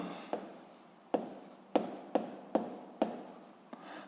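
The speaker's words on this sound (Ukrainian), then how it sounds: "Записуємо закон гука." Pen strokes tap and scratch across paper as an equation is written out, a quick irregular series of about seven distinct marks, close and fairly quiet with no talking.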